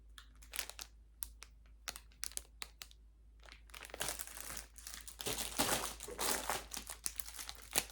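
Fabric packaging being handled and unwrapped, giving sharp intermittent crinkles that build into a denser, louder stretch of crackling, close and fairly quiet.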